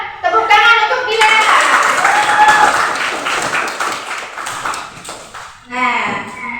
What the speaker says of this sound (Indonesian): Tepuk tangan untuk Dila.